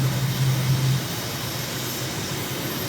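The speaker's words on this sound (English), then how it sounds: "We have liftoff, positive rate of climb, gear up" An aircraft on a recon flight in Venezuela takes off and climbs, its engine giving a steady, loud broadband drone with a low tonal hum that fades after the first second.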